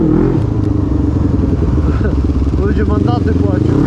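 A loud motorcycle with a noisy exhaust revs close by, a throaty rumbling roar that stays steady with rising and falling pitch sweeps toward the end; people talk under the engine.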